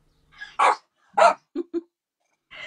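A small dog barks several times indoors, a few sharp separate yaps spread over a couple of seconds, heard alone at moderate loudness in a home during a casual online chat.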